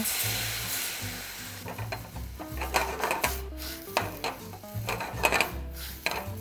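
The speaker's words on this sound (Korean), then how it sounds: "전체적으로 오일에 소테가 되면요, 와인으로서 한번 리덕션을 해주고요" Cauliflower and other ingredients sautéing in hot oil in a pan, then deglazed with wine for a reduction, with a steady sizzle and repeated scraping and stirring strokes, close and fairly loud over background music.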